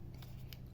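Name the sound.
scissors cutting washi tape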